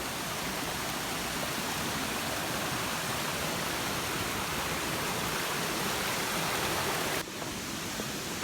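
A dense, continuous roar of rushing water, loud and steady, from Imugan Falls in Santa Fe, Nueva Vizcaya, heard nearby with no voices.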